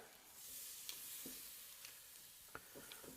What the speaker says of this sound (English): Can hear a good sizzle, that's what we want.